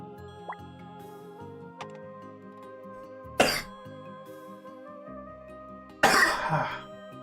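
Two sharp, harsh coughs burst out a few seconds apart, cutting over a steady bed of soft synthesized music with light plinking tones.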